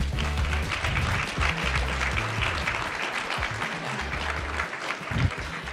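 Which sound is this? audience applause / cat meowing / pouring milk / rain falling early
audience applause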